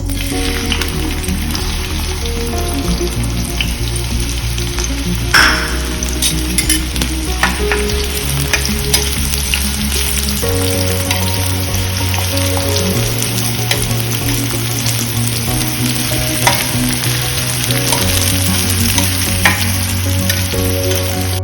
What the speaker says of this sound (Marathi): आता कांदो फ्राय करूया.